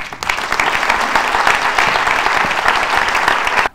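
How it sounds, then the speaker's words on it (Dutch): Audience applause at a Pecha Kucha evening in Gemert, steady and full clapping from a crowd throughout, close and loud, ending abruptly. "Graag een applaus voor Cindy."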